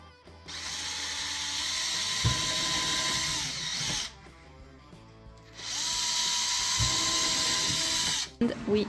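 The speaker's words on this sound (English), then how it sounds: "Time to make the holes and place it." A power drill bores holes in a DIY helmet visor mount, two sustained whining bursts of about four and three seconds with a pause between, close and fairly loud.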